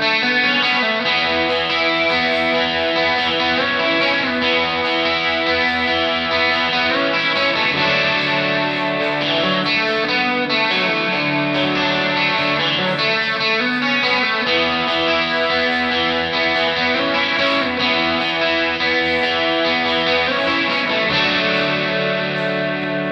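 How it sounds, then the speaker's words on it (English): Double-tracked electric guitar part from a song, run through a budget chorus pedal and overdrive, plays alone as a continuous, full, shimmering strummed figure with slight grit at a steady level. "So the guitar parts isolated from the intro song sound like this."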